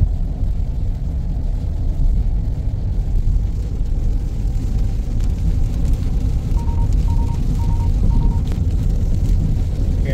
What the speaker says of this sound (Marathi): पावसाचा जोर परत एकदा वाढलेला आहे. तुफान पाऊस आहे